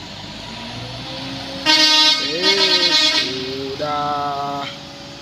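A dump truck's horn blasts as the loaded truck slowly climbs, with two long tooting honks and a shorter third one, loud and echoing over a low engine rumble.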